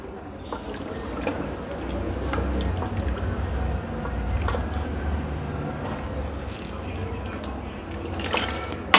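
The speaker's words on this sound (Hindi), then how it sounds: "अब इसमें हमने पानी शामिल करना है।" Water poured into a pot of aloo gosht curry with tender cooked meat, a soft trickling and dribbling of liquid over low kitchen background noise, with a brief louder clatter near the end.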